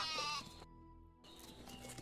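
Goats bleat in the farm-building video game Medieval Dynasty, two short nasal calls separated by a brief gap, moderately close against a quiet background.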